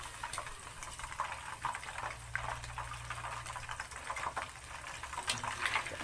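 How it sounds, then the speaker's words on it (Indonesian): Battered shrimp frying in hot oil in a home kitchen, a steady close bubbling sizzle with fine crackles running throughout. "Kita jangan terlalu udang kita terlampau overcook, nanti tak sedap kan"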